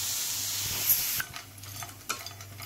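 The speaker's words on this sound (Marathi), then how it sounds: "याचा कच्चेपणा थोडा जाण्यासाठी थोडंसं आपल्याला असं पॅन मध्ये गरम करून घ्यायचे" Green peas heating in a pan on a gas stove, a steady loud sizzle and hiss that breaks off into a few scraping stirs, heard alone with no talk.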